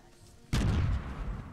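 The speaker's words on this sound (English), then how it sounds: "I hear an explosion." A single sudden explosion booms in a Fortnite match, a loud, deep blast that bursts in abruptly and rumbles on as it decays.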